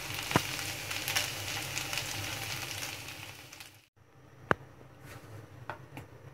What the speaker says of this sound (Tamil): இப்போ கொஞ்சமா இதல கருவேப்பிலை சேர்த்துக்கலாம் இதுவும் இது கூட சேர்ந்து நல்லா ஃப்ரை ஆகி crispy-ஆ வரும்